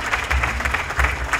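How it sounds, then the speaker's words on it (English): Applause at a gala, a brief burst of clapping from a crowd in a hall for about a second and a half. "round of applause for Sister Funduka"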